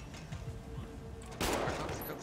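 Video game gunfire in a war shooter sounds as a burst of rapid shots over a busy, loud mix, then a harder blast near the end.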